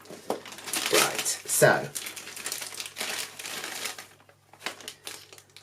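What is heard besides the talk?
cutting open plastic doll packaging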